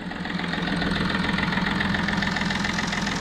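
A Chevrolet Beat car engine idles steadily just after starting, its even, continuous rumble close and loud throughout with no talking.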